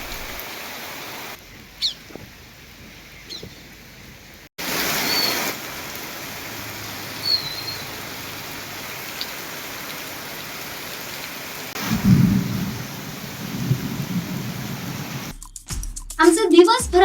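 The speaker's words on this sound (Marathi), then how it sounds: "हा पाऊस एवढा मुसळधार पडला की सर्वच ठिकाणी पाणीच पाणी पाहायला मिळालं." Heavy monsoon downpour in Vengurla, a steady broadband hiss of rain pouring down, with a few abrupt cuts and some swelling, louder stretches but no clear thunder.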